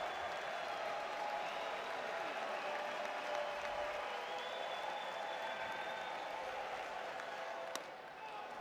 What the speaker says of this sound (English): This is the loudest this Disch Falk Field crowd has been today.